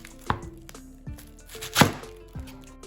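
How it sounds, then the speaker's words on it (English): A knife slices a cabbage in half on a cutting board, with the outer leaves removed, giving several distinct, close chops with a firm crunch, one noticeably louder than the rest. "I'm gonna cut it first in half"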